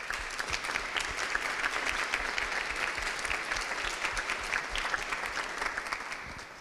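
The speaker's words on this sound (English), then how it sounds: "Please, I wanted to applaud them and say thank you to them." Sustained audience applause for bootcamp staff at a coding bootcamp graduation ceremony in Barcelona, dense and steady clapping that holds for several seconds before tapering off slightly at the end.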